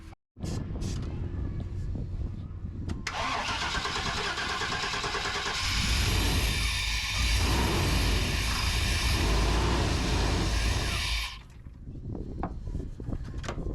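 A Chevrolet Suburban engine with a fuel pump problem cranks and catches, then roars loudly for several seconds before dropping back to a rough idle, heard close up.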